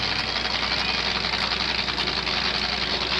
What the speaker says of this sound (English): my Ford's still running, your Chev isn't.